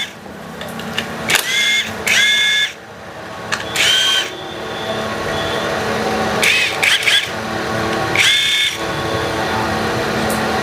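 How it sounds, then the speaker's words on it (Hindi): A power impact tool removes the bolts on the clutch plate of a Hero HF Deluxe BS6 motorcycle in several short whirring bursts of varied length, close and loud, over a steady background hum. "इम्पैक्ट टूल है तो आप लोग इम्पैक्ट टूल की मदद से खोल लें"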